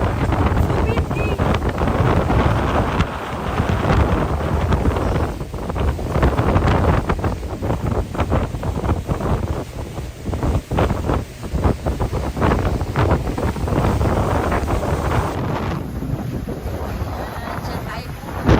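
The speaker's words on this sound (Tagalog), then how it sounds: "So windy!" Strong, cold wind buffets the microphone in a steady, heavy roar at an outdoor spot near Cristo Roto in Mexico, with brief bits of talk mixed into the gusting noise.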